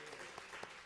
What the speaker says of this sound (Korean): 주님께 영광의 박수로 찬송 올려드리며 할렐루야.